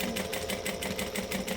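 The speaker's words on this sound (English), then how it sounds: "And I'm actually stitching at a 1/4 inch." A sewing machine stitches a quarter-inch seam through fabric in a steady, continuous run. The rapid rhythmic needle pulses are close and fairly loud, and no one speaks.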